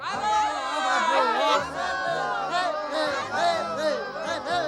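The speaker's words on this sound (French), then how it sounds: "Ah, les acclamations, c'est la plus schtroumpf des musiques pour moi." Animated crowd of Smurfs cheering and shouting loudly for the Smurf musician, a dense continuous wall of excited voices that swells and dips without pause.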